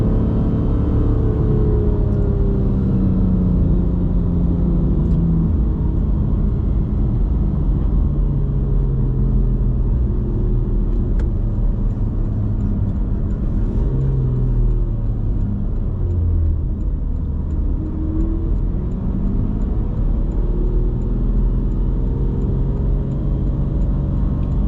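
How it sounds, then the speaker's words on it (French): A Porsche accelerates hard out of a corner on a race circuit, its engine droning loud and steady with rising and falling tones heard from inside the car over about twenty-five seconds. "Là, je peux commencer à réaccélérer complètement pour sortir."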